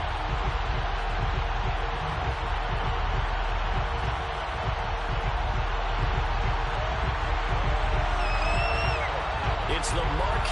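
A stadium crowd in the Madden 22 football video game roars in a constant, broad wash of cheering noise before kickoff of a Dallas Cowboys game, with an announcer talking over it.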